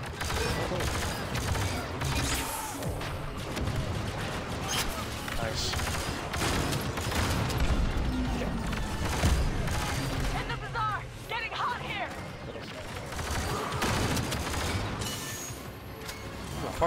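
Bursts of gunfire in an Xbox One shooter game, dense and continuous with rattling automatic fire and mechanical clatter, heard under a player's voice chat.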